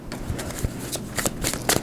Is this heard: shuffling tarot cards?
yes